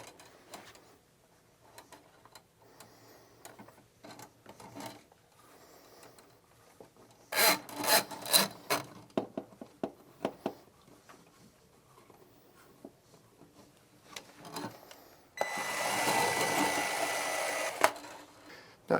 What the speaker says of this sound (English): I'm going to continue to keep the motor going in the same direction